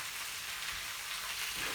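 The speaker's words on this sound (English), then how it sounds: "So I'm frying the zucchini" Zucchini frying in a small pan beside chicken, giving a steady close hiss and crackle of sizzling oil throughout the short moment.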